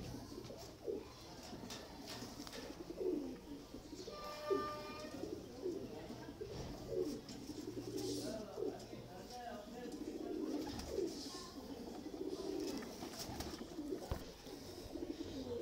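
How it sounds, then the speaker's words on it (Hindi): Fancy pigeons coo softly in repeated low, throaty phrases at close range, with a voice talking over them and some other faint bird chirps in the background. "ये शौक वाले कबूतर।"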